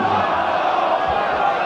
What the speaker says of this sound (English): Everybody cheering him on, hoping, and so is he.